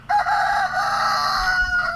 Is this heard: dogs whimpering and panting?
no